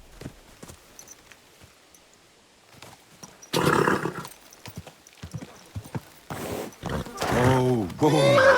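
A horse in the video game Kingdom Come: Deliverance 2 clip-clops and gives loud whinnies and snorts, with bursts of hoofbeats near and clear against quieter game ambience.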